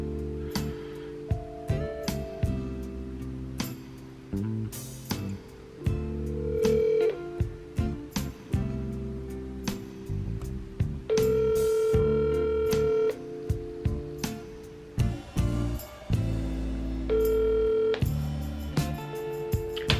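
A telephone is dialed with a run of keypad tones, followed by ringing tones and beeps, heard close and clear with no talking over them.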